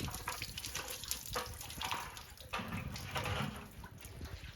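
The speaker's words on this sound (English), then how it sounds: "let the water wash it all down" Water is poured and sloshed through a bucket to rinse out dirt at Crater of Diamonds State Park, a faint, irregular splashing and gushing with small surges.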